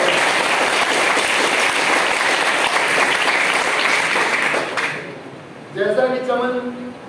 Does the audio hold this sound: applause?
yes